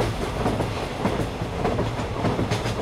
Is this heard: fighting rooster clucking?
no